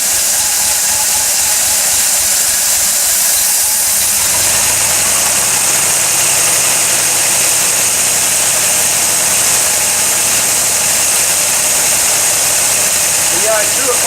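An engine with sticky valves idles after being started, giving a loud, unbroken rumble mixed with hissy, noisy texture for the whole stretch.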